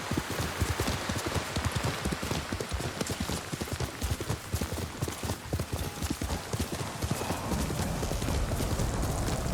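Horse hooves clip-clop in a steady, rapid rhythm as a mount travels in the video game Ghost of Tsushima, loud and close throughout with a soft hiss of ambience underneath.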